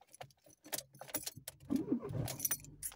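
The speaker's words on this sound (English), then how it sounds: "Okay, now my engine is on." A car is started with a key: keys jangle in the ignition, then the engine cranks and catches into a low idle, faint and close inside the cabin.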